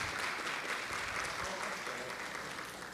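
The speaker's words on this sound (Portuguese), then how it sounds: "Uma salva de palmas, ela merece." An audience at a Tribunal de Contas gathering claps steadily for several seconds, a soft, dense patter heard from a distance that slowly fades.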